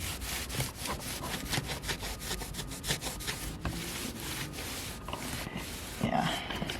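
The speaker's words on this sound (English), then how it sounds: "let me try wiping this down again" A rag is wiped back and forth over a window air conditioner unit, a fast, rhythmic series of close, dry rubbing strokes with steady scraping texture.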